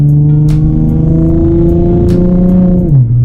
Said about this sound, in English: My exhaust is a little drony